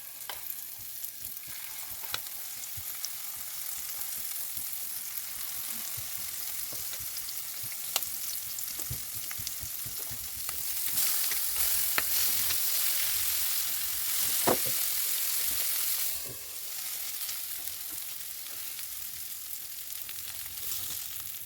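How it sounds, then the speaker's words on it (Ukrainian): Liver fritters sizzle steadily in a hot pan, a constant crackling hiss with occasional sharper pops and stirring sounds. "смажимо всі котлети"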